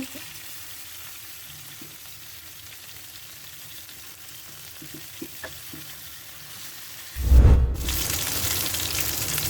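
Pieces of katla fish sizzle in hot oil in a pan after being flipped, a steady, moderate frying hiss with small pops and crackles, then a sudden loud surge of sizzling near the end.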